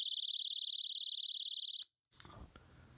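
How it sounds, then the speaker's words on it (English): Personal keychain alarm sounding a loud, shrill, pulsing electronic siren that runs steadily close up, cuts off abruptly, then gives way to brief handling noise. "this is gonna be loud as I pull the alarm and you're gonna hear it"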